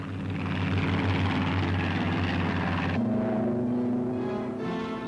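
A P-47 Thunderbolt fighter taking off from a runway gives a loud, sustained propeller engine roar that holds steady, then shifts pitch partway through, with no talk over it.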